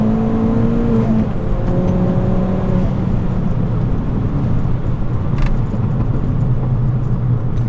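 A turbocharged Ford Fiesta ST with an X48R turbo pulls hard in second gear from about 40 mph, its engine note climbing steadily toward 7,000 RPM before backing off into a rumbling cruise with road noise, heard from inside the car.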